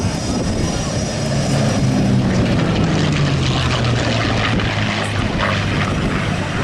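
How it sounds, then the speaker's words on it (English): North American NA-73X prototype with an Allison engine flies past at an airshow, its propeller drone loud and steady, sliding down in pitch as it passes overhead, with wind and crowd noise underneath. "Listen to this beautiful sound of this aircraft coming through."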